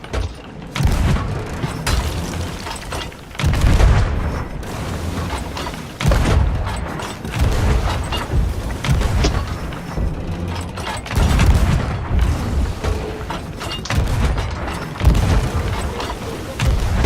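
Cannon fire booms from a ship in the Sea of Thieves video game, pounding a mermaid statue in a loud, dense, continuous barrage of heavy blasts and rumbling impacts with faint voices underneath.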